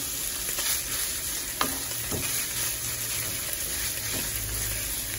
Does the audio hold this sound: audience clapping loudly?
no